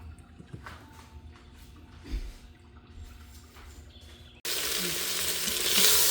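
Sona masoori rice frying in a home-kitchen pan for veg biryani, a soft sizzle and scattered stirring clicks that suddenly swells into a loud, steady hiss of frying for the last seconds.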